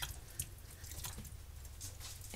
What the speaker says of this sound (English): going to drain the broth into a pan for gravy